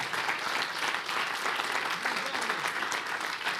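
A church congregation gives a loud, sustained round of applause at a Sunday service, dense steady clapping filling the room throughout with no pauses.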